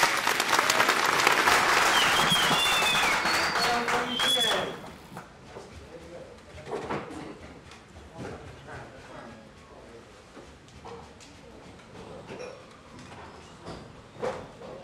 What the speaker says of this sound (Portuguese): Senhoras e senhores, aplausos para